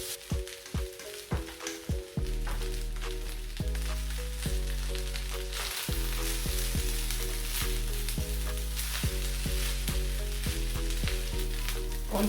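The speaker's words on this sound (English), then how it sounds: "Continue stir frying." Beef fried rice ingredients sizzle steadily in a hot pan, loud and close, while a utensil scrapes and stirs with short repeated strokes, faster at first and then at a steadier rhythm.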